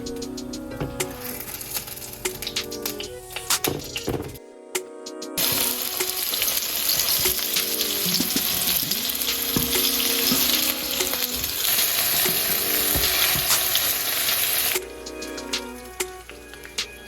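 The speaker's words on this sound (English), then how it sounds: "Fry the aubergine and the potatoes only half cooked." Aubergine and potato slices for moussaka fry in oil in a pan, a loud continuous sizzle that stays steady and close, broken by brief clatters and a short pause partway through.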